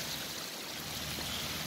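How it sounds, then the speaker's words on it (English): Water flows through rocks in a model waterfall, a steady close babbling trickle that stays even throughout. "water will start to flow through here also"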